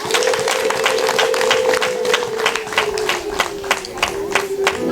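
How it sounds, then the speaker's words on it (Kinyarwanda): Applause from a church congregation, a dense steady patter of many hands clapping throughout, with a sustained tone running beneath it. "Reka mumumpera amashyi menshi."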